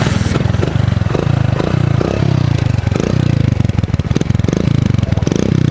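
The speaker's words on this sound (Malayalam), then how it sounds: "ഇങ്ങനെ സ്റ്റാർട്ടാക്കി സൗണ്ട് ഏൽപ്പിച്ചു കൊടുത്താൽ സൗണ്ട് സൈലൻസർ ഓട്ടെ ഒന്ന് കേൾപ്പിച്ചു കൊടുക്കി" A Splendor motorcycle engine runs steadily close by, its stock silencer giving a loud, rhythmic thumping exhaust note with clattery mechanical noise throughout.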